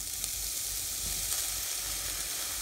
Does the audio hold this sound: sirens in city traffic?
no